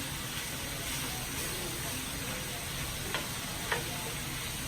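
Okra and carrots sizzle steadily in a hot pan, a constant close frying hiss with a couple of faint ticks from stirring, no one talking.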